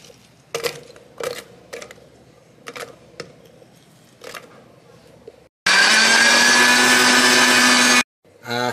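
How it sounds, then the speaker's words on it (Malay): A kitchen blender grinds one large onion, four garlic cloves and two inches of ginger, a loud steady motor whir running about two and a half seconds after several sharp clicks and knocks from setting up the jar. "Kita kisar dulu."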